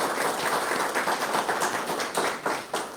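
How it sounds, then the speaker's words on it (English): A crowd at a State of the City event claps to thank donors for a donation. The applause is steady and fairly soft, with a busy wash of overlapping claps over three seconds. "please give them a round of applause"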